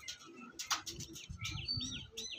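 Andhra pigeons kept for sale give off soft chirps and calls, several short bird sounds close by against a low background rumble.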